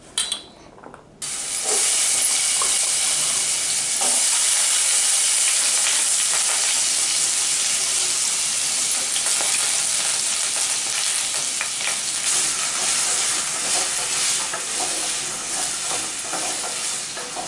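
Potatoes drop into hot oil with a brief clatter, then a loud, dense hiss of frying takes over and holds steady close by, with no speech.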